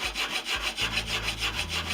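A hand saw cuts wood for an aircraft wing rib joint, close and clear, with quick, even back-and-forth strokes at about four per second.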